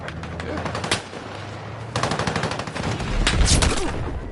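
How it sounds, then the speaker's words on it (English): Heavy gunfire in the Battlefield 6 shooter game, including a tank firing, with rapid automatic bursts and louder blasts layered over one another amid continuous battle noise. "It was a tank firing at me."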